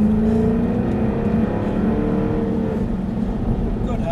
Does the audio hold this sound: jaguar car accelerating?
yes